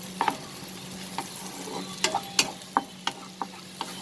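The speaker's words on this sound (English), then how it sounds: "the green chilies, and I will saute this" Green chilies with garlic sauté in a pan, a faint, low sizzle under a series of sharp spatula clicks and taps spaced through the clip, close and with no voices.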